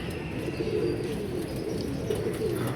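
Pigeons coo in a steady, low murmur that runs throughout, with faint rustling and outdoor background noise.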